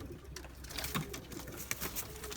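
Pigeons in a coop at a loft in Yeni Foça, with soft cooing and faint wing and shuffling sounds over a steady low background, the birds close by.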